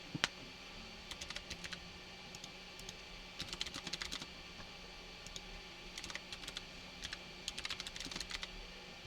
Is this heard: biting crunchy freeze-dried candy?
no